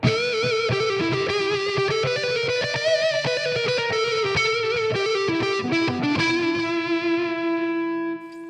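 Jackson Pro Monarkh electric guitar played through its pickup with heavy distortion, rapid picked notes and trill-like runs ringing loud and close, ending on a sustained note that fades out.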